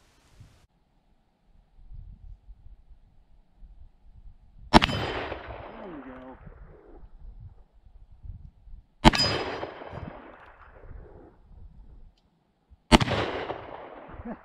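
Three sharp, loud gunshots from an Elmer Keith-style magnum revolver, spaced about four seconds apart, each ringing out with a decaying echo over faint background noise.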